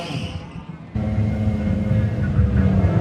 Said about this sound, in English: Oh yeah, hear that burnout.